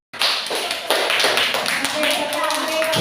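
Schoolchildren in an Indonesian classroom clap their hands together after a lesson discussion, a steady close patter of many hands filling the room, with some voices mixed in.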